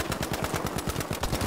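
Rapid automatic gunfire from a Battlefield 5 match, a steady stream of close, loud machine-gun bursts repeating quickly and evenly for the whole stretch with no talk over it.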